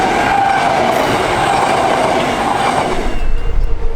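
Perth A-series electric suburban train running on the dual-gauge Midland line, a steady loud rumble of wheels and rails with a faint rising whine, the roar swelling in the final second as it passes close.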